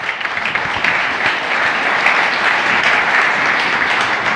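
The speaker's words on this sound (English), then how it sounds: "Please give him a round of applause." Keynote audience at a Lenovo Transform event in New York applauds to welcome a speaker, with dense, sustained clapping from a large crowd, steady and loud, with little talk.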